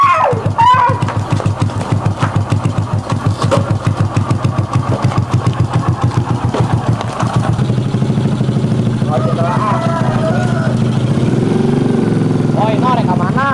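A motorcycle engine runs close by, its low, steady mechanical rumble continuing throughout while people talk over it in the foreground.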